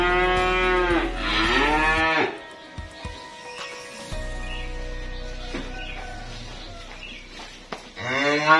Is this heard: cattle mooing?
yes